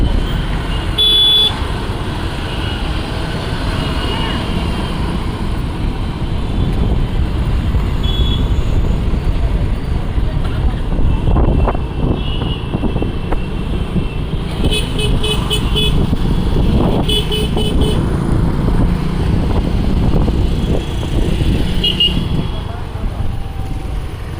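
Busy city road traffic in Vijayawada: a continuous rumble of cars and motorbikes passing close by, with several short horn toots breaking through, and people talking over the noise.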